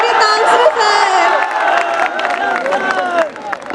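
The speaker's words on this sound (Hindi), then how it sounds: "तालियां रुकनी नहीं चाहिए।" A lively crowd at a school farewell party claps, cheers and whoops, with high-pitched shouting voices over dense applause that stays loud for the whole stretch.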